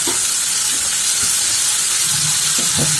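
Curry leaves frying in hot oil alongside onion and tomato in a home kitchen, giving a steady, loud sizzling hiss throughout with faint low clatter underneath and no talk.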